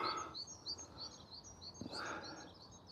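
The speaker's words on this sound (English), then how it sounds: "Can you hear the birds?" Faint, distant birdsong in a park: repeated short chirps and whistles over soft outdoor background noise, with a brief call partway through.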